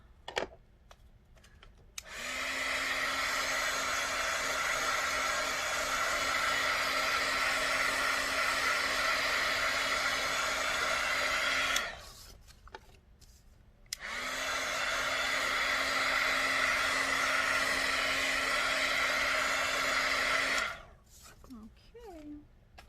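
A dryer blows steadily to dry teal paint on a book, running in two long loud bursts of about ten and seven seconds with a short quiet pause between them.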